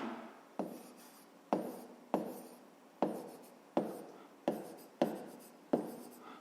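Pen or pencil writing a grade-5 maths exercise by hand on paper, eight distinct strokes that each start sharply and fade, spaced about a second apart, close and quiet with no talk.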